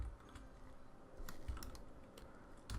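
Keys tapping on a Slovak computer keyboard, a quiet, close, fairly steady clatter with a few sharper strokes, heard alone without talk.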